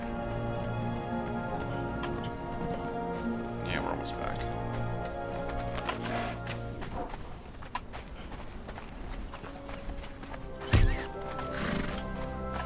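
A horse in the Conan Exiles video game neighs and whinnies over rhythmic clip-clop hoofbeats as it runs, with a sharp thud near the end and a faint voice in the background.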